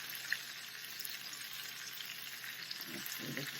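Pork chops and peppers sautéing in a pan make a constant, even sizzle close by, with a few soft stirring scrapes near the end and no voices.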